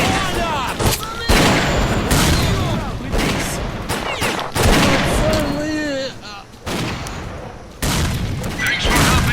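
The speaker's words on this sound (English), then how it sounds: "Catch a grenade!" Grenade explosions and heavy gunfire in the video game Stalker: Clear Sky, a dense run of loud booms and shots with voices shouting over the battle.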